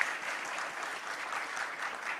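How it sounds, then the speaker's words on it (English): Audience applause at a panel discussion on regulations for recycled plastic: steady, dense clapping from a seated crowd, fairly soft and distant, with no voices. "A round of applause."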